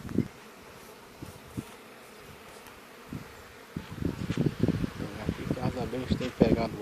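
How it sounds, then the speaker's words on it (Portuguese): Bees drink water at a cement tub in an apiary, their buzzing faint at first and then swelling into a busy, close cluster of overlapping wingbeats over quiet outdoor ambience. "As abelhas têm pegado água, né? Pra valer, ó."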